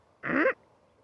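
A tame local bird gives one short, loud, harsh screeching call close by. The call lasts about a third of a second and ends in quiet.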